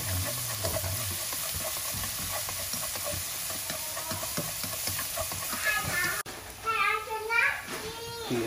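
Shallots, garlic and minced lemongrass fry in a pan, giving a steady close sizzle with stirring clatter throughout, while children's voices chatter in the background toward the end.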